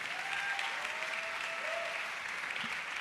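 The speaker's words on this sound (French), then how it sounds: "Un tonnerre d'applaudissements, messieurs, dames, pour Raphaël!" A conference audience applauds a speaker with an even, steady wash of clapping at moderate distance, a brief whistle-like tone drifting through the middle.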